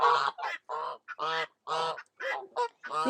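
Geese honking nearby, a loud series of harsh repeated calls in quick bursts with brief pauses between them.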